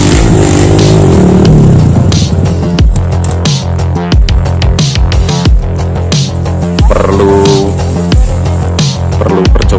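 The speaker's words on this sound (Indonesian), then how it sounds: "Mesin sudah meraung-raung." A motorcycle engine revs hard and loud while climbing a steep mountain hill track toward the Wilis peak near Madiun, the roar surging and stuttering with repeated throttle bursts, close up and continuous throughout.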